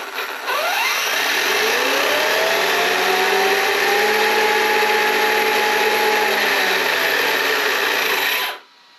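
Arrma Kraton V6 RC car with its electric motor driven up progressively under throttle, a loud sustained whine with rising and falling tones lasting about eight seconds before cutting off abruptly, no talk.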